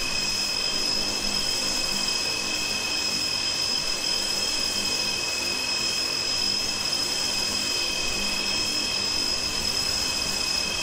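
Steady aircraft engine drone from the Prepar3D flight simulator, a continuous close hum with a high whine running unbroken and loud throughout, no voices.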